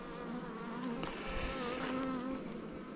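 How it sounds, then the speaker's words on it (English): Bees buzz around a new beehive, a continuous dense droning hum of many insects close by, with individual bees whining louder as they pass near. "A few more bees than I would have wanted."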